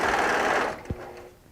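A serger sews through quilting fabric in a steady, close whir for under a second, then cuts off with a soft thump and fades to quiet.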